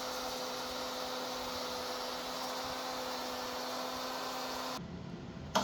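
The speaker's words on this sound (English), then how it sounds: "I'll route a channel for my 2-way truss rod" A router cuts a channel for a two-way truss rod into a guitar neck, a steady loud whine held without a break for nearly five seconds, then cutting off into quieter room noise.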